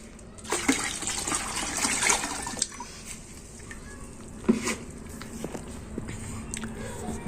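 Water from a bucket poured into a garden fish pond as gourami fish are released, a rushing, splashing pour with bursts of gushing and a few sharp splashes over roughly seven seconds.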